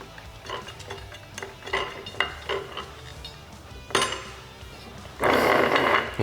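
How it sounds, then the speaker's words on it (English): Ratchet and hardware work while starting a nut on a clutch arm of a Polaris RZR Trail S 1000 during a SuperATV clutch kit install: several close metallic clicks and clinks, then a louder sustained rattling burst near the end. "We'll go ahead and get our nut started."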